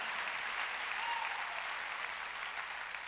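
A church congregation at a Wednesday worship service applauding together, a dense, even wash of many hands clapping at once that holds steady throughout, with no gaps.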